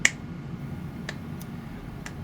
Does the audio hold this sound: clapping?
yes